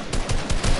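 A quick run of loud gunfire bursts, several rapid shots packed close together.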